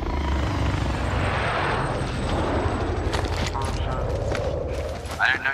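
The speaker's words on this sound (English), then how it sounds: "the fucking helicopter coming in" A helicopter in Call of Duty Modern Warfare, its rotor thumping close and steady over a dense, loud wash of engine noise that runs without a break, with sharp game clatter near the end.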